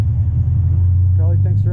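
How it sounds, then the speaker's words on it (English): A V8 truck engine idles with a deep, steady low rumble close by, while someone talks over it toward the end. "Listen to that V8 rumble, you guys."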